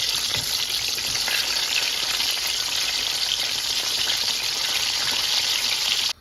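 Steady loud sizzling of eggplant frying in hot oil, a continuous crackling hiss that stops abruptly at the end.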